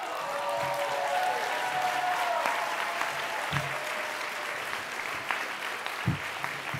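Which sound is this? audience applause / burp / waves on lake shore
audience applause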